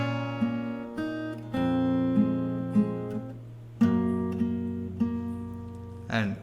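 Slow fingerstyle acoustic guitar playing a song, a handful of plucked bass and melody notes ringing out at an unhurried pace, close and alone.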